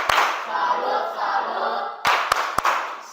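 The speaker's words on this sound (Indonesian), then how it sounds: "Berikan tepuk salut untuk kelompok" A classroom of students gives a group a chanted cheer, a blended chorus of voices followed by a few crisp, separate claps near the end.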